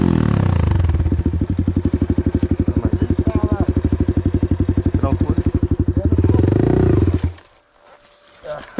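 A motorcycle engine held at a loud, pulsing rev for several seconds, swelling to a peak before cutting off abruptly, with people talking close by.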